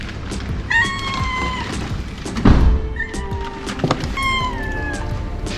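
A cat meows several times with clear, drawn-out cries, interrupted midway by a dull thunk. The setting is outdoors near a house in Oman.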